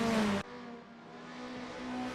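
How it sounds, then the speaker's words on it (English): Engines of 1990s touring race cars in a racing game drone steadily, with one loud car cutting off abruptly at the start and a sustained engine tone continuing beneath. "JP Brandt and Jamie Nichols using the slipstream effect to get as much speed as possible"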